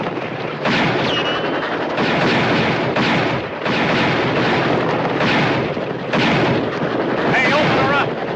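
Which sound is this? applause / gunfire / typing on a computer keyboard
gunfire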